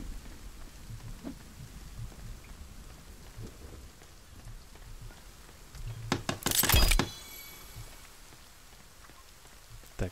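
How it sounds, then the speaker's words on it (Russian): Rain falling in the survival video game The Forest: steady soft patter throughout, broken by a sudden loud thunder crack midway. "Дождик пошел."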